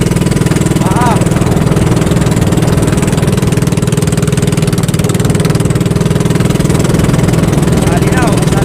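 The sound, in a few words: boat engine running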